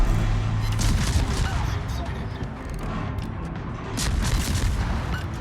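Dense, loud naval gunfire and booming explosions from a warship battle video game, a continuous barrage of rumbling blasts with no pause.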